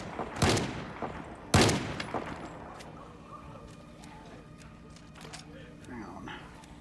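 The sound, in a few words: shotgun firing in Project Zomboid video game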